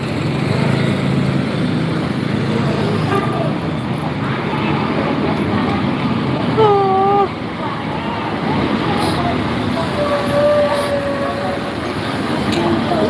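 Road traffic rumbles steadily nearby, with engines droning and a few brief horn-like tones cutting through, and voices blend into the background.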